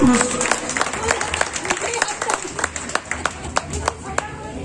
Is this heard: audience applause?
yes